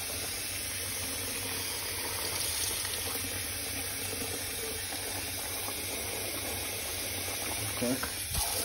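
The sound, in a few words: tap water filling container to rinse trout roe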